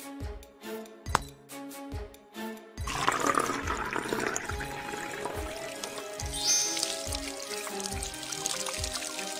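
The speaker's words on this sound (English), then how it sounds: "Pour some water in the bottle." Water pours steadily into a plastic bottle in a mobile game with a gurgling, splashing rush, preceded by a few clinks, while rhythmic background music plays.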